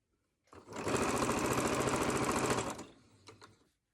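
A sewing machine runs a steady, fast mechanical stitch for about two seconds while patchwork squares are joined for a pot holder, then slows and stops with a few fainter whirs.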